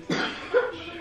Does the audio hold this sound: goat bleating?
no